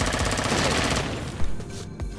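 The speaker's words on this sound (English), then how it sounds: "Turret on the wall." A wall-mounted turret in the sci-fi survival game Empyrion: Galactic Survival fires a rapid burst of automatic gunfire, loud and close, then tails off into a couple of separate heavy thumps.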